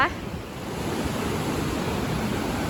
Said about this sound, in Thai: เป็นน้ำตกน้ำร้อนนี่แหละนะคะ